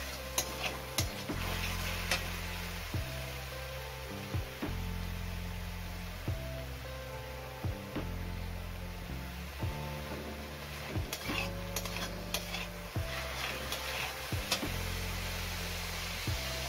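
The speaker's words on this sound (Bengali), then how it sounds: "দেখো এবারে খুব ভালো করে দেখো কষিয়ে নিচ্ছি।" Cauliflower and potato curry with ground chili and onion paste sautéing in a pan, with steady clicking and ticking from the spoon and a soft sizzle throughout, at low volume.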